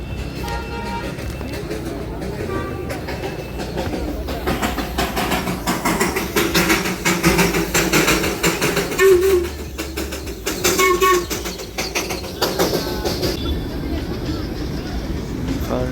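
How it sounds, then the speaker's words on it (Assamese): A train rumbles past up close with steady clattering and rolling noise, a couple of brief tonal toots, and people talking faintly underneath. "টয় ট্ৰেন গুচি গ'ল"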